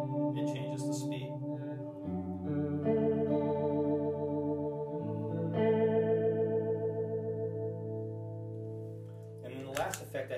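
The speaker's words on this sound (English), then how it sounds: "it's the algorithm that's more like a traditional chorus, and I have it set so that in heel down position, it's a nice fat slow chorus" Electric guitar through a Neunaber Seraphim pedal set to a fat, slow chorus, sustained chords shimmering and wavering as the modulation speed shifts, close and clear; brief bursts of talk at the start and end.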